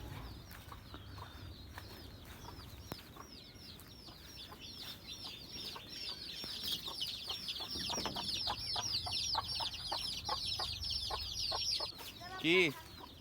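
Several hens in a grandmother's coop cluck on and off at a low level, with occasional wing flapping and a brief voice nearby.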